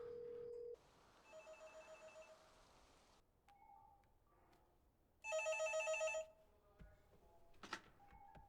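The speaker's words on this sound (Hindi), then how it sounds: "मैं पुलिस को फोन कर रहा हूँ।" A telephone rings in repeated electronic bursts, a short tone followed by longer loud trills separated by gaps, with a few faint knocks and rustles in between and no talking.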